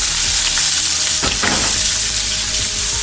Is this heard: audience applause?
no